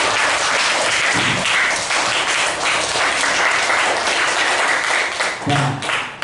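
A classroom of students applauding, a loud, sustained wash of clapping from many hands with occasional sharper claps nearby, continuing without a break.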